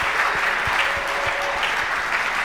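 A church congregation applauding, sustained dense clapping from many hands at an even level filling the space, with no talk over it.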